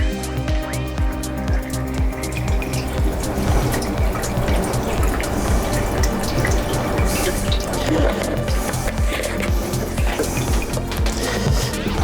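Final rinse liquid is poured into a Jobo CPP-2 processor tank for C-41 colour film, giving a continuous splashing, gurgling pour with dripping and light knocks, close and fairly loud.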